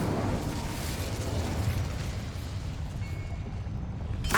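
Incendio fire spell cast in the video game Hogwarts Legacy, a loud, steady roaring blast of flame that holds for several seconds, with a sharp burst at the end.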